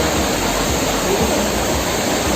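The Seetharkundu waterfall in the Nelliyampathy hills pours over rocks in a steady, loud, dense roar of rushing water, heard close up with no voices.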